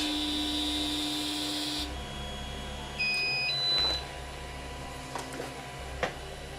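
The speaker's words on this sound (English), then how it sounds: "Hit the button and it will now move to the front right." Creality CR-10 3D printer during bed levelling: a steady motor hum and whine cut off, then short electronic beeps, a brief stepper whir as the bed travels, and a few soft clicks, close by with no voices.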